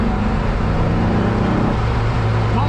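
A 1964 VW Beetle engine held at steady, sustained revs in second gear, a loud, close, even drone with no breaks.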